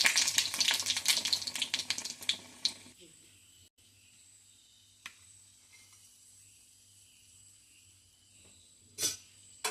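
A bread pocket for pocket shawarma fries in a pan, a crackling sizzle loud and close for the first few seconds, then dropping to near quiet with a few isolated knocks.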